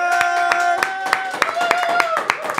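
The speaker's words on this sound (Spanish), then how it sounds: "Quiero que recibamos con fuerte aplauso a Luis Guzmán" A studio audience claps to welcome actor Luis Guzmán on a Puerto Rican talk show, a brief burst of dense clapping with sharp hand hits over a steady musical tone.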